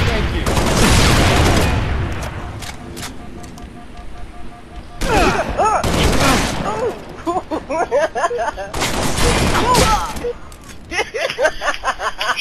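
Heavy gunfire and explosions in the video game Halo Reach, loud sustained volleys in several waves with booming impacts, with voices talking over parts of it.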